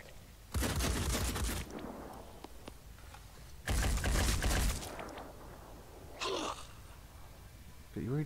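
Bursts of automatic gunfire in the turn-based strategy game Phoenix Point as squad soldiers shoot at worm creatures, three loud broadband volleys separated by quieter gaps.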